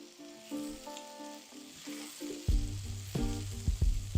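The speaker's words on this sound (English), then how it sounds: "So you see our onions and peppers are almost done here, along with our steak." Onions, peppers and steak fry in a pan for Philly cheesesteak sliders, a steady near sizzle with a few scraping stirs and a louder burst of crackling in the second half.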